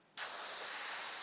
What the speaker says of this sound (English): So we're going to spray him an orange color.